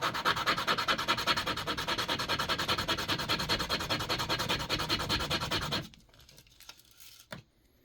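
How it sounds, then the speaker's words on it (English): Lower-grit sandpaper is rubbed hard against a homemade DIY exhaust pipe to flatten it, a loud, steady rhythmic rasp of quick strokes that stops near the end, leaving quiet handling noises and one sharp knock. "a lower grit and sand this down so it's flat."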